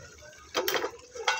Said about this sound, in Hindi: ये देखिए मैं इसको भून रही हूँ।